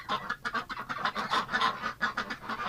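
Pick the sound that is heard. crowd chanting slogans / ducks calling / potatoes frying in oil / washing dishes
ducks calling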